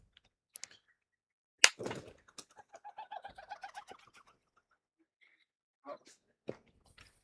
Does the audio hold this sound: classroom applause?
no